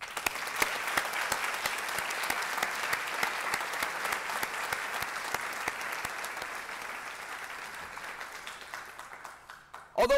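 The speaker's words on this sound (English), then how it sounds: "applause." A large audience at a Master of Engineering diploma ceremony claps steadily for the graduates, a dense, sustained round of applause that fills the room before tapering slightly at the end.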